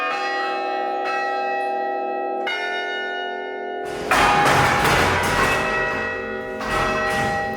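Bell tower chime at Manchester University, originally played by wooden levers on dowel rods, rings out in sustained tuned strikes: two single notes with long ringing decay, then a busier run of overlapping peals from about four seconds, with no talk.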